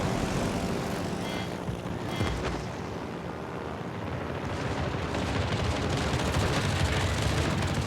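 Carrier bombers attacking in the naval video game World of Warships: Legends, a continuous roar of aircraft engines mixed with rumbling gunfire and explosions, loud and dense throughout with no clear talking.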